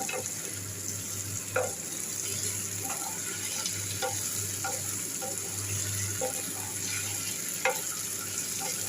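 Steady sizzling of food frying in a hot pan, a continuous crackling hiss with occasional louder pops and stirring clinks.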